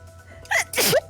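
Two sneezes in quick succession, loud and close, the second bigger than the first, with a short pause between them.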